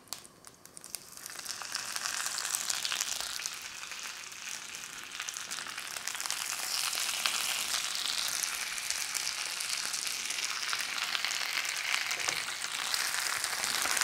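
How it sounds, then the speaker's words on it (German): Vegan cabbage rolls, seam side down and packed tightly together, fry in a pan with a steady, close sizzle that swells after a quiet start and keeps crackling evenly with no talk. "Die Rouladen jetzt mit der Unterseite, da wo alles zusammengekommen ist, zuerst anbraten."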